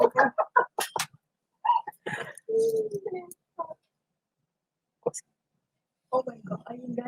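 A person imitates a chicken's clucking with short, choppy clucks and a drawn-out squawk, broken by pauses amid excited voices.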